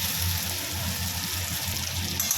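Hot water pours steadily into a simmering hilsa fish curry with potatoes and eggplant. A continuous close gush and trickle of liquid runs for a couple of seconds without any voices.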